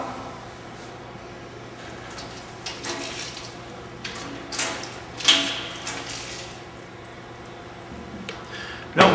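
Water is poured into a soap mixture in a soap-making machine, making a soft, running splash with scattered trickles and small clinks over a low mechanical hum, ending in a sharp knock.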